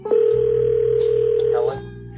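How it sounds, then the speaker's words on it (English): A telephone tone plays over a radio call-in line, a steady sustained electronic tone lasting over a second and a half before cutting off, with a low hum beneath it and no speech. "Answer your phone."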